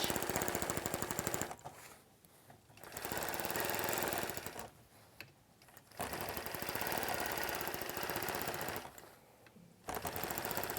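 A sewing machine stitches in the ditch on a Halloween quilt, running in rapid steady bursts of mechanical chatter with brief pauses between them, close and alone.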